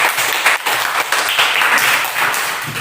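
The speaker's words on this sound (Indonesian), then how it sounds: "tepuk tangan dulu" An audience at a school event in Indonesia claps steadily and densely, a continuous wash of applause lasting throughout.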